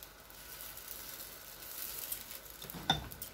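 Dosa batter of red lentil and rice frying on a hot pan, giving a soft, steady sizzle that swells slightly toward the end, heard close and alone with a brief clink near the finish.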